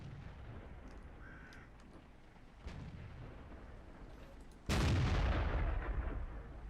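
A tank cannon fires in the World of Tanks video game: one heavy, booming shot that rings out loud over quieter battle ambience, following a stretch of low rumbling noise.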